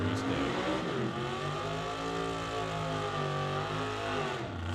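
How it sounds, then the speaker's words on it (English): Hot rod engine roaring and revving hard through a burnout at a drag race start line, loud and close, with a sustained rising engine note and tire noise filling the whole stretch. "So Ted Buss brings his hot rod up to the start line. Burnout is complete."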